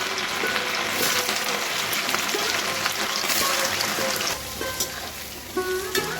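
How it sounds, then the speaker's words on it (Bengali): Taro pieces fry in hot white oil with a dense, steady crackling sizzle heard close, scattered with brief pops and small clinks. The sizzle thins slightly toward the end. "দেখুন কচুগুলোকে ভালোভাবে আমরা ভেজে নিচ্ছি"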